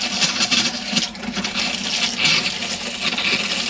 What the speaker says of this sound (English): this is just to demonstrate that your water pump is working. So it's pressurizing the water there.